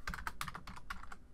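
Quick burst of keystrokes on a computer keyboard, close and fairly quiet, entering text in a graphics program with no talk.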